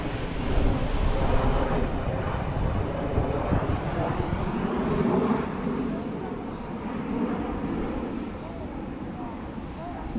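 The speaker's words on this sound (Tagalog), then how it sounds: "Gandang eroplano." A KLM airliner roars steadily overhead, a broad, continuous engine noise that swells early and then eases slightly as it passes.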